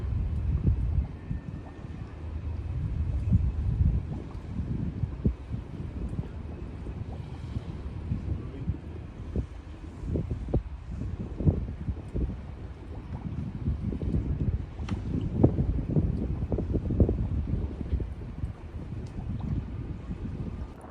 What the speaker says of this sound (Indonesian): Sekarang kita sudah benar-benar ada di Noordzee, langsung disambut dengan angin yang bagus.